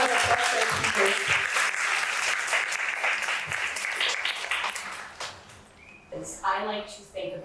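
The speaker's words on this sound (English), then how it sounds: "please give a big round of applause for our speakers" Audience applause for the speakers of an evening panel event, a dense, sustained clapping from a sizable crowd that holds steady for about five seconds, then thins out into scattered claps and fades.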